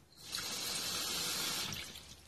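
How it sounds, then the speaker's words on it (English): Water pours steadily for about two seconds into the plastic barrel of a National Geographic starter-kit rock tumbler, a close, even gushing like a running tap. "So I'm going to add just a little more water."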